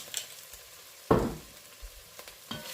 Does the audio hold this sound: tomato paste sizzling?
yes